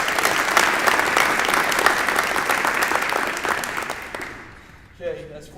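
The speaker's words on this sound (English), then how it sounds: "So I'd like to give the whole team a round of applause." Crowd applause for a football team at an awards gathering: dense, steady clapping that holds for about four seconds, then thins and fades, with a brief voice near the end.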